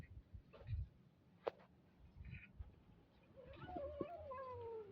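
A stray cat meows outdoors, a few faint, drawn-out cries at a distance over low rustling and ambient background noise.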